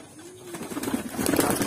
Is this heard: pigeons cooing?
yes